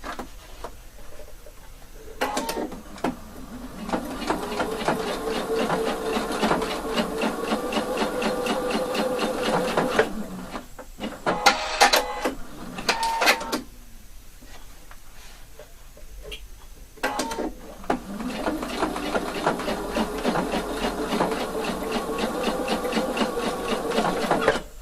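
Domestic sewing machine stitching the shoulder seams of a garment with a round neckline, running in two long steady bursts of rapid rhythmic clatter separated by a pause with a few clicks and handling knocks, close and fairly loud, no talking.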